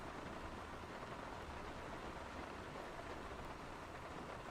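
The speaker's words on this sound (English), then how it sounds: "But what if artificial rain sounds?" Steady artificial rain sound, a dense even hiss of falling drops at constant loudness with no pauses, running alone without talk.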